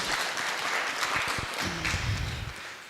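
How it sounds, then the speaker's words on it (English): Short burst of clapping from colleagues at a stakeholder engagement meeting, fairly close, with a brief voice cutting through partway. "Let's give him a round of applause"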